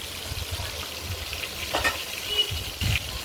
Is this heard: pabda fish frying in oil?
yes